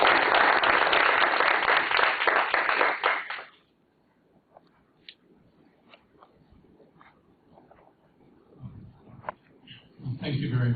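A lecture audience claps loudly for Professor Robinson in a steady, dense round that cuts off after about three seconds, leaving a quiet room with faint rustles until scattered noise and a voice rise at the end.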